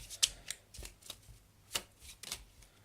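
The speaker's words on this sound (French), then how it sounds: "je rabats les cartes" Playing cards shuffled and riffled during a magic trick, a string of quick, crisp papery flutters and slaps in irregular bursts, close and clear with no talking.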